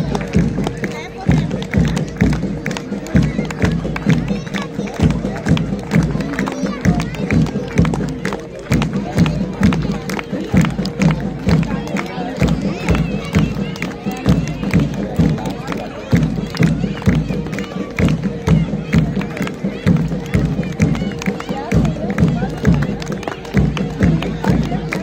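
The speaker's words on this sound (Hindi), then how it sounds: "इनके कदमों के साथ, इनके बाहों के साथ आप अपनी तालियों का स्वर मिलाइए।" Crowd at a school Republic Day parade keeps up steady rhythmic clapping along with marching steps for the whole stretch, mixed with a busy hubbub of voices and outdoor noise.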